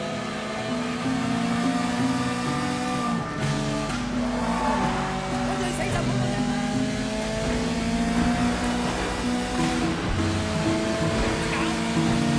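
Car engine from the Sleeping Dogs video game drones steadily for the whole stretch, rising in pitch as it accelerates, with road and wind noise underneath and a voice briefly heard over it.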